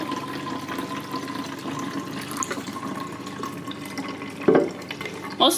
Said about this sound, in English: I'm gonna try to do this with one hand as I pour